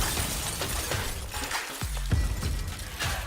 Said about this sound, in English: Thousands of shards of glass and stacks of paper flew out the window, and Sam followed out behind them